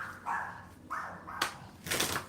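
Several sharp barks from a dog indoors, coming in irregular bursts with short pauses between them, fairly close and moderately loud.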